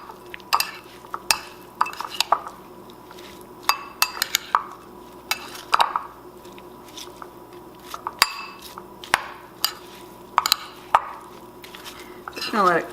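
Apple and almond mixture stirred into cooked quinoa inside an Instant Pot, a spoon clinking and scraping against the metal pot in irregular sharp knocks, close and fairly loud.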